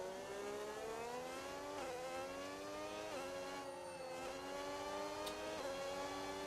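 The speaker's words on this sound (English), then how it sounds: "we're going healthy engine sound here with Karen" A Formula 1 race car engine in a racing video game screams at a high steady pitch, with brief dips and climbs at each gear change, running continuously and loud with no talking over it.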